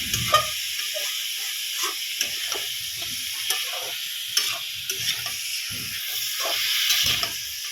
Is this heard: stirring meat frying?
yes